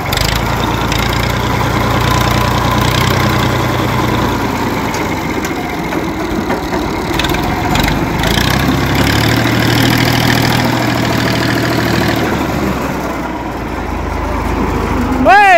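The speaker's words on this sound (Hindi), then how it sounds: "मैं चला रहा हूँ ट्रैक्टर," Tractor engine running loud and close, a continuous low rumbling idle that rises toward the end, with people talking over it throughout.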